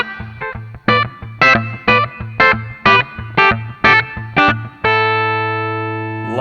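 An electric guitar through a Jared James Nichols signature Blackstar amp with added reverb plays about a dozen punchy distorted picked chords in a steady rhythm, ending on one long ringing chord that fades out.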